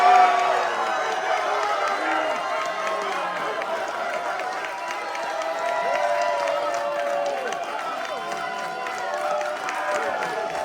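A crowd at a Carnival Jubilee military appreciation gathering cheering and hollering, a dense sustained roar of many voices at steady volume for the whole stretch.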